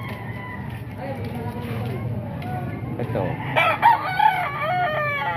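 Roosters crow loudly at a Baliwag tiangge market, several calls rising near the end while someone talks steadily over them.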